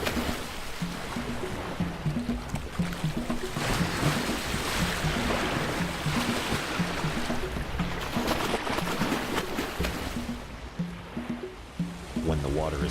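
Fast-moving river water surges and rushes loudly and steadily during a wildebeest crossing, a broad churning wash with low rumbling underneath that holds throughout.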